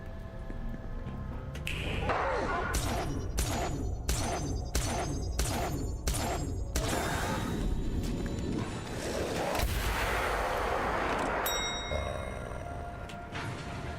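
Repeated gunshots in the horror video game Sorry We're Closed, a series of sharp loud reports in a steady rhythm over a dense, busy game soundtrack with no talk.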